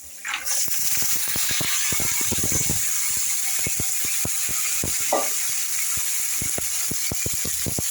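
Tender drumstick stalks hit a pan of frying potatoes, a low sizzle broken by sharp, irregular clacks and scrapes of a spatula stirring against the pan, close and without speech.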